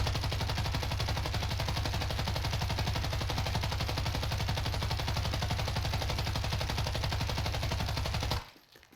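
A light machine gun in the video game Warzone fires one long, unbroken automatic burst of rapid, even shots for about eight seconds. It is loud and dense, then cuts off abruptly.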